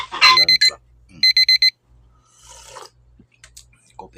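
An alarm clock rings in short bursts of bright, high electronic beeps. Two quick clusters of four beeps come close together, followed by quieter scattered noises and brief background sounds.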